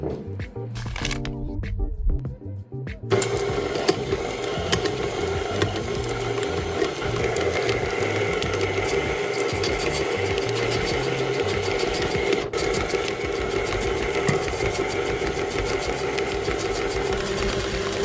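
Electric stand mixer running steadily through bourbon pecan sandies cookie dough, a continuous mechanical whir with rhythmic beating after a few seconds of clattering setup, loud and close without talk.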